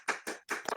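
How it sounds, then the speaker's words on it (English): Hand claps on a podcast stage, several sharp close slaps in a quick cluster of three to four, with no talk. "here's my clap"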